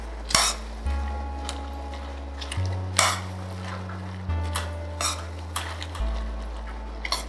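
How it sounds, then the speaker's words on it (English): A spoon stirs and presses cheese into mac and cheese in a pot, making repeated scraping strokes and soft clanks against the metal at a slow, uneven rhythm over a low steady hum. "Just stir and push down on the cheese."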